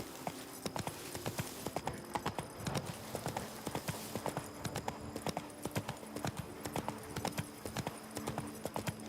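Roach the horse's hooves clip-clop steadily in The Witcher 3, a brisk, close rhythm of repeated hoofbeats running throughout over faint background game sound.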